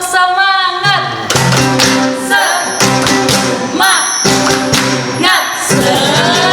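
Children at an HKBP Bojong Menteng Sunday school service clap a rhythmic spirit cheer in sharp, closely spaced bursts, loud and near, over ongoing music with voices.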